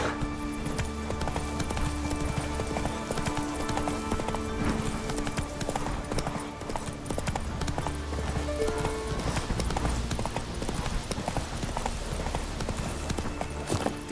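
Horse hooves gallop in The Witcher 3, a continuous, rapid clip-clop rhythm close by, layered over a low game soundscape with steady background music and ambience.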